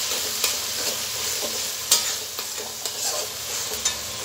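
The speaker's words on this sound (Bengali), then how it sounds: "নাড়াচাড়া করে" Onion paste fries in a pan for chicken biryani as a utensil stirs it, giving a steady close sizzle with irregular scraping strokes and clicks and no voices.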